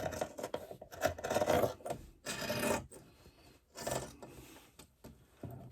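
A sewing machine back stitching a seam at the start and end of a bag's back lining, heard as close rasping mechanical runs in short bursts separated by pauses.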